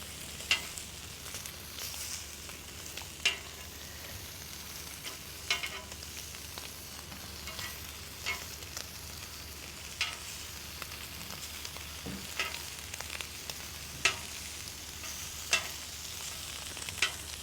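Lamb chops sear in a hot pan with a steady, soft sizzle and scattered pops and crackles, fairly quiet and continuous with no one talking.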